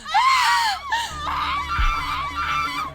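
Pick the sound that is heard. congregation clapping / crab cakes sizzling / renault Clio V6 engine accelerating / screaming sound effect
screaming sound effect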